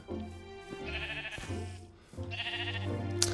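Sheep bleating in the Minecraft video game, two separate wavering bleats close by over a low ambient game background, with no talking.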